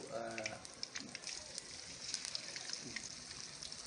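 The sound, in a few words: deep frying silver dollar fish, Hyderabadi fried fish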